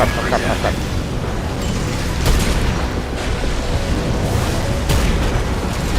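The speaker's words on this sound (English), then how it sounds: "the only thing that I'm damaging this guy is these missiles" Missile explosions in the Armored Core 6 video game form a loud, continuous barrage of booming blasts and rumbling bursts, with sharper impacts landing every few seconds.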